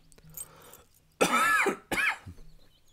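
Coughing in a visual novel video game: two rough, close coughs, the first longer and harsher, the second shorter, with quiet room tone before and after.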